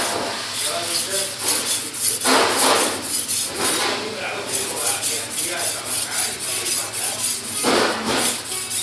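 A knife blade is stroked back and forth across a wet whetstone, giving repeated gritty scraping passes at a steady rhythm, close and fairly loud, with brief pauses between strokes.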